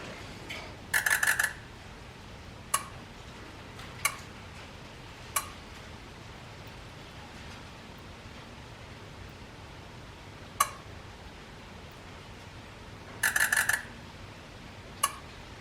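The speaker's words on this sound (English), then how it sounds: "And here it goes, injector self-test." Injectors on a 6.0 Powerstroke diesel click during the buzz self-test: a few short isolated ticks spread out, plus two brief rapid bursts of clicking near the start and end, faint against a quiet background.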